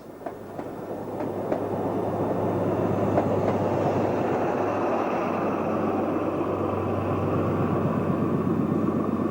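An XPT passenger train rumbles steadily past, a broad continuous roar with faint rhythmic wheel clatter, swelling and holding loud throughout.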